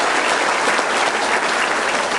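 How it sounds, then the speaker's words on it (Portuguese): Worshippers in a church break into loud, sustained applause, a dense wash of clapping from the congregation that holds steady throughout. "Uma salva de palmas ao Pai, ao Filho e ao Espírito Santo."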